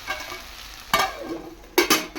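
Okra frying in a pan at home, a soft steady sizzle broken by two distinct scraping stirs of a spatula against the pan, close and alone without talk.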